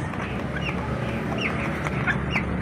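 Broiler chickens about 45 days old cluck steadily in a close flock, with scattered higher calls over a dense, continuous bed of fowl murmuring and no talk.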